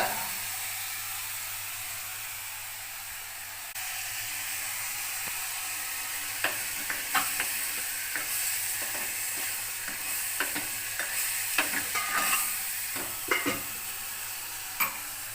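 Tomatoes sauté in a clay pot for a dried-fish curry, giving a soft, steady sizzle with scattered stirring clinks and pops that grow busier toward the end, fairly quiet and close, with no talking.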